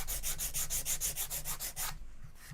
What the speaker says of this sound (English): I'm just taking this flat block and some sandpaper, and I'm just making sure that this fretboard extension is cleaned off.